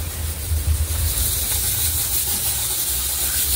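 A kitchen pressure cooker builds up before its whistle, giving a continuous close steam hiss that holds steady for a few seconds with no voices over it.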